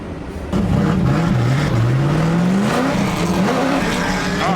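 An LS-swapped Mazda Miata, brought back after sitting, drives with a loud, steady V8 drone that rises and falls in pitch as it accelerates, close and continuous with no talk.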